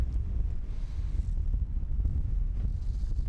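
Steady, blustery wind roars into the microphone throughout, a heavy low rumble with gusts rising and falling and no voices.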